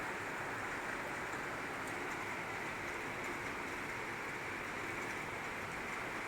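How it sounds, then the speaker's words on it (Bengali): Heavy rain pouring down steadily, a dense, unbroken hiss that stays even throughout with no pauses. "এখন ছটা বাজে বেশ জোরেই এসছে বৃষ্টিটা"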